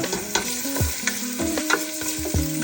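Ginger frying in a pan, a close sizzle broken by repeated scraping strokes and knocks of a spatula stirring against the metal.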